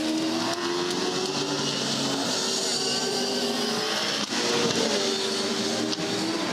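V8 Supercars roaring around the Bathurst circuit during the 2015 Bathurst 1000, engines droning loud and continuous as several cars pass close together, with rising and falling pitch from revving and no talk over it.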